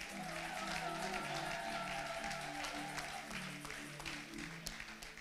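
A faint crowd at a seminar applauds as a guest takes her seat, steady clapping with a few scattered cheers that continues for several seconds.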